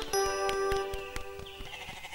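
Goats bleat close by, with one long wavering call at the start and more overlapping bleats after it, over faint background noise.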